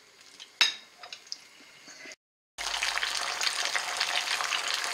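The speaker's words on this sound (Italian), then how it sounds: "L'aglio si è imbiondito e noi caliamo il nostro sugo." Tomato sauce for spaghetti with eggplant poured into a pan of browned garlic in oil: a few clinks and light sizzling, a brief silence, then a sudden loud, steady hiss of frying that carries on to the end.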